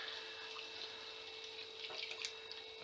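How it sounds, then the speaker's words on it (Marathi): Water is poured from above over masala-stuffed eggplants in a pan for bharli vangi, a soft, steady splashing trickle that sounds quiet and somewhat distant, with no voices. "आता या वांग्यांवरती आपण थोडंसं पाणी टाकून घेऊयात,"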